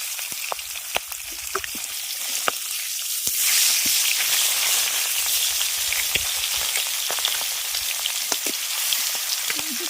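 A fish head fries in hot oil in a wok, a loud, dense sizzle and crackle that swells after a few seconds, with scattered sharp pops.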